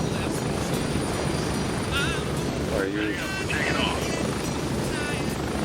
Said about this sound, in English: Sounds like there was another chopper coming in.